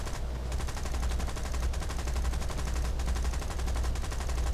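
Sustained rapid gunfire from a Blenheim Mk IV fighter in War Thunder, a dense continuous rattle over a low rumble, steady and loud throughout.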